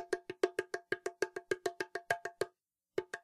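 Quick, crisp knuckle hits near the top edge of an 8-inch slap frame drum tap out a fast even pattern of about twenty strokes, then a brief pause and one more hit.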